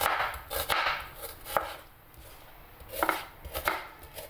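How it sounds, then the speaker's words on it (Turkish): Knife chopping a dry onion into half-moon julienne slices on a cutting board: sharp, close taps in short irregular bursts with brief pauses between. "Bunu da aynı şekilde yarım ay şeklinde kesiyoruz."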